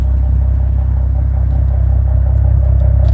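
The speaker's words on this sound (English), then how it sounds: "the car, as you can see, is running" A Ford Mustang engine idling steadily, a loud continuous low rumble with a faint mechanical clatter and no voices.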